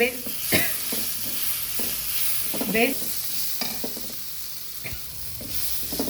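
A pan of frying spiced mixture sizzles as ground chutney is stirred in for an avarekalu (field bean) saaru, with a steady close hiss and repeated scraping spoon strokes against the pan.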